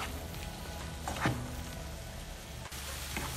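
Vegetables and garlic fry in a pan on the stove for rice with vegetables, giving a steady close sizzle and crackle with a brief stirring scrape partway through.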